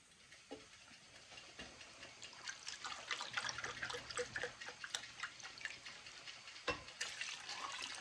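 Beef broth poured into a crockpot while making extra spicy birria tacos gives a faint, steady liquid trickle with soft splashing, quiet throughout with no talking.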